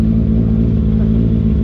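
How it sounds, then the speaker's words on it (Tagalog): A Honda CB motorcycle engine runs steadily and loud throughout, a dense low rumbling drone with no clear rev peaks, heard close up with no talk. "Iba tunog ng CB."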